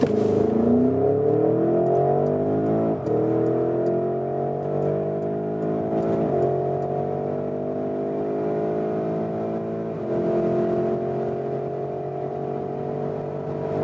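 A Porsche Cayenne GTS Coupé with a 4-liter twin-turbo V8 making 460 hp pulls hard from a rolling 40 km/h toward 200 km/h. Its loud, smooth engine note climbs steadily, broken by three quick gear shifts.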